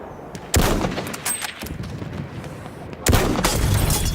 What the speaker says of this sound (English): Oh, we sniped each other.